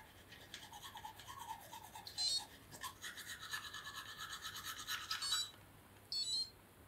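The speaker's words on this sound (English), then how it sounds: "It will track how long you're brushing your teeth." An electric toothbrush buzzing in short bursts against teeth as someone brushes, faint and close, with brief pauses between spells of buzzing.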